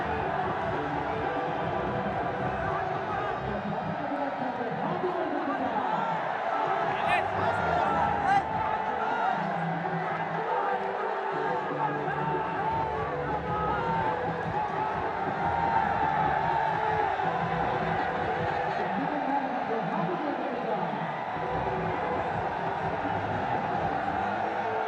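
Stadium crowd at a Bangladesh Premier League T20 cricket match between Dhaka Capitals and Chittagong Kings, a steady distant roar of cheering that swells slightly, carried under a commentator's voice.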